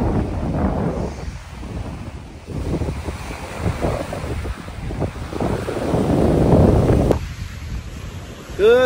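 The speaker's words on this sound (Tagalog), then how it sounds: "It's so windy." Strong gusty wind at Sandpiper Beach in St. Laurent, Manitoba, roaring and buffeting the microphone alongside rough surf, loud and continuous with brief lulls, and a voice briefly audible.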